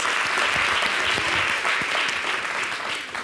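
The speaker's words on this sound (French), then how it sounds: "L'équipe d'en face est plutôt fair play parce qu'elle applaudit." An audience applauds a team on a quiz-style TV show, a steady, dense clapping that holds for about three seconds and fades slightly at the end, with no talking over it.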